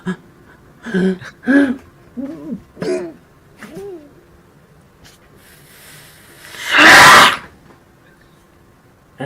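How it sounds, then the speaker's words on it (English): A single loud, breathy sneeze bursts out up close after dust is breathed in inside an old manor, preceded by several soft voiced murmurs and sharp intakes of breath. "You want to sneeze."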